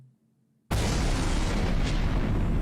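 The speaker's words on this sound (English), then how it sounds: "The explosions continued, and soon the hall was filled with smoke." In the video game Piofiore: Fated Memories, after a brief quiet moment, a loud explosion erupts into a sustained, roaring boom of crackling, full-spectrum noise with no voices.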